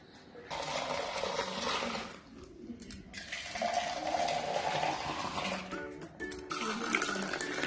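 Masala tea being strained and poured, liquid splashing in steady bursts with brief pauses, a continuous trickling rush close by.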